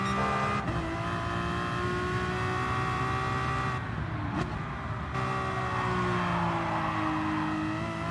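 Aston Martin DP100 VGT in Gran Turismo Sport, a loud sustained engine drone at high revs that dips briefly on a corner before climbing again, with faint tire noise and no talking.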